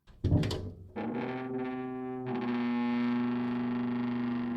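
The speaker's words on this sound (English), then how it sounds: "It's the sound of the old shed door. It creaks as we swing it open and shut." An old wooden garden shed door creaks loudly in drawn-out, groaning tones, with a short squeak first and then a long, sustained creak as it swings.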